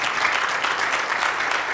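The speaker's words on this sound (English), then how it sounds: "So can we give a round of applause?" Steady audience applause at a community tornado response meeting, a dense continuous clapping texture from a room full of people, fairly loud and without talking.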